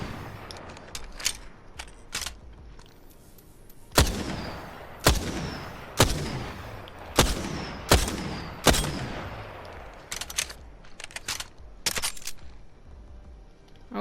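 Triple Take weapon from the video game Apex Legends fires a series of sharp, booming shots, about a dozen cracks spaced roughly a second apart with short mechanical echoes and tails, no voices.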